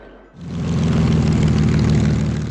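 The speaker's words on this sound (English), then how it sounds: "testing begins on the first version of the super bomber B-24, known as the B-24 Liberator" Four-engine B-24 Liberator bomber in flight, a low, droning propeller roar that swells in quickly after a brief quiet start and then holds steady and loud, with no speech.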